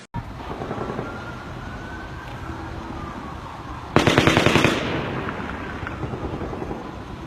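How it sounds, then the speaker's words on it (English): Rapid bursts of automatic gunfire from the Las Vegas shooting crackle at a distance, with a faint, sustained background rumble first and then a louder volley of sharp shots that echo and fade. "The two sets of gunshots that I'm sure everybody heard there can be considered a source gunshot and an echo gunshot"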